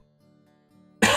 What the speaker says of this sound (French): J'ai toussé un bon coup